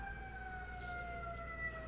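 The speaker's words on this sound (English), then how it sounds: "Or the fire engine whistle." Fire engine siren whistle with steady, sustained rising tones held over a constant low rumble, faint and continuous throughout.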